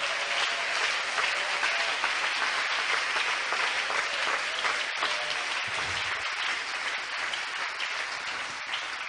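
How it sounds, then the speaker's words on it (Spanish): A church congregation applauding in unison, a dense, sustained roar of clapping that fills the room at a steady level throughout. "dale un aplauso a él en esta hora"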